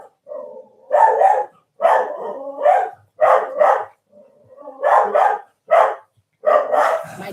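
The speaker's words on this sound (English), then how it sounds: "My dog is incensed." A dog barks close by in loud, repeated bursts of several barks each, separated by short pauses, over roughly seven seconds; no one speaks.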